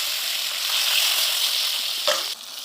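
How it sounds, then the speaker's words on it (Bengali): Fish frying in hot oil gives a steady, close, loud sizzle, with a brief clatter near the end before the hiss drops a little quieter. "আবার দুটো মাছ ভেজে নেব।"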